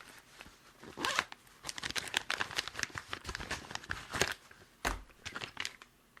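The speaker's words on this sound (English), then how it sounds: "So why don't we open up this bag and see what's inside?" A plastic bag holding a drive pedal is torn open and handled close up, giving a run of crinkling, rustling bursts with a few sharper crackles and no speech.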